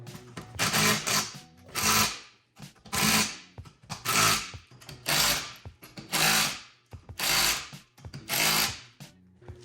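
A power tool grinds on a Honda Civic's quarter panels in repeated bursts, about nine evenly spaced rising-and-falling whirs with brief pauses between each pass.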